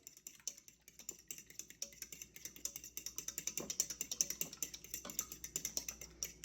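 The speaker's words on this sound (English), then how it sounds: "we're gonna get a fork and mix it up. Whisk it up." A fork whisks eggs in a bowl for a fried asparagus recipe, a rapid run of light clicking taps against the bowl that speeds into a steady rhythm, close and quiet with no talking.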